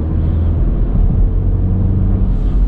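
A 2019 Porsche Macan switched into sport mode, its engine giving a steady, loud, deep rumble that holds continuously throughout, with no voices.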